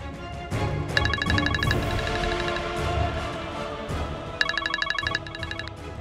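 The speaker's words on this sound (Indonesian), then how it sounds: "Apa aku telepon Mas Irfan aja ya" A phone ringtone plays during a call, two bursts of repeated electronic trilling tones separated by a pause, loud and clear with no voices over them.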